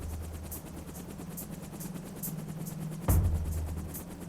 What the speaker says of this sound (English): another helicopter is about to leave an oil platform